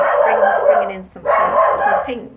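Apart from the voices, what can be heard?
dog barking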